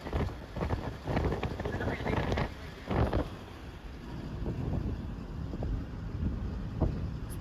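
Gusty wind at Chitradurga fort in Karnataka buffets the microphone in uneven, rumbling bursts, fairly faint and continuous across the open hilltop.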